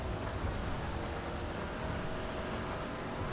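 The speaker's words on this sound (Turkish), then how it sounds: "Bu yağmur da çok bayağı iyi yağıyor yani." Heavy rain pouring in the GTA 5 video game, a dense, steady wash of noise at constant loudness with no voices over it.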